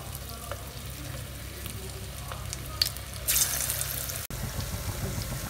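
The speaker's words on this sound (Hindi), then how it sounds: "ये सरसों का तेल रखा है, इसमें हम इसको फ्राई करेंगे।" Round jackfruit kofta balls fry in hot mustard oil with a steady low sizzle and bubbling, growing louder and brighter partway through, with occasional light clinks nearby.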